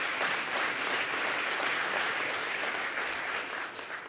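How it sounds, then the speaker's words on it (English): A crowd applauds steadily for about four seconds, a dense clatter of many hands that tapers off slightly at the end. "So, round of applause for that,"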